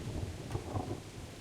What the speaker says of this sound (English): Thunder and lightning, very, very frightening.